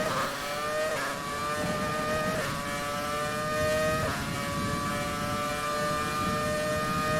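A high-pitched Formula 1 racing engine in F1 2020 whines continuously, its pitch dropping and climbing again with each gear shift, heard steadily without voices.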